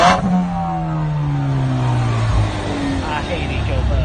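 A 2015 Roush Mustang with a four-cylinder EcoBoost and automatic transmission revs loudly up close, the engine pitch sweeping up then falling, with a voice talking over it.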